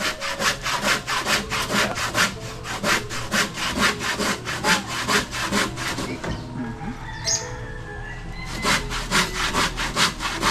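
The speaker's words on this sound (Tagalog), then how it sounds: "baka maubusan ng talim yung lagari" A hand saw cuts through wood in quick, regular back-and-forth strokes, pausing briefly midway before resuming, with faint birdsong in the background.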